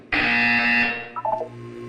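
Loud electronic buzzer from the Portal 2 video game, a single sustained harsh tone lasting under a second, then fading into a short warbling electronic tail over a low hum.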